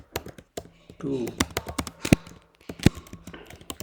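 Typing on a computer keyboard while writing a ChatGPT prompt for a Python script: quick, irregular clicky key taps, several of them sharp and loud, mixed with a person speaking.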